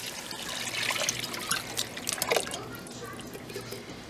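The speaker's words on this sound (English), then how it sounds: "next I'm going to add a 46-ounce jar of just tomato juice" Tomato juice poured from a 46-ounce jar into a pot of chili, a steady close trickling and splashing of liquid lasting a few seconds, with faint clinks.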